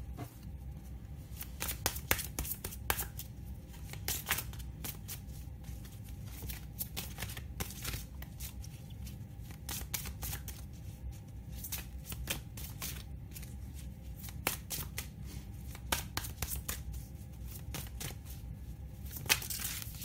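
Oversized tarot-style cards being handled and shuffled, a steady run of close papery riffles and slaps with no talking over them.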